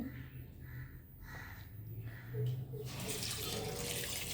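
Water runs steadily from a tap, growing louder and fuller near the end as it splashes into a cooking pot with garlic and chillies; brief quiet clatter earlier.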